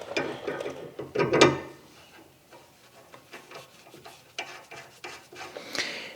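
A bolt is threaded in by hand during strut replacement on a 2015 Subaru Outback, making close, irregular ratcheting clicks and metallic rubbing in short bursts with quiet gaps between.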